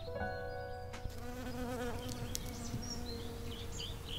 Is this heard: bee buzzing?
yes